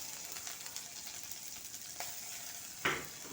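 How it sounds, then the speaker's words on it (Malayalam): Chopped spinach leaves frying in a pan with chili powder, turmeric and grated coconut, a faint steady sizzle with soft scraping stirs and one sharper clink near the end. "മുളക് പൊടി, മഞ്ഞൾപ്പൊടി, തേങ്ങ ഇത്ര ഇട്ട് നന്നായിട്ട് വഴറ്റിയിട്ട് അതിലേക്ക് കഴുകി അരിഞ്ഞു വെച്ചിരിക്കുന്ന ചീരയില ഇട്ട് കൊടുക്കുക."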